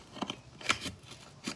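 Scissors snipping open the packaging of an LPS toy, several short crisp cuts with rustling between them, close and fairly quiet.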